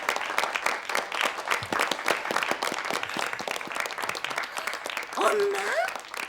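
Wedding guests applaud to welcome a congratulatory performance, a steady wash of clapping from a sizeable crowd with voices mixed in, ending as a high, wavering tone, likely a voice or instrument, rises near the close.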